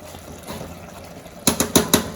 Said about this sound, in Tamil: இப்போ இதுக்கு இந்த அரிசிக்கு தேவையான அளவுக்கு தண்ணி விட்டுக்கலாம்.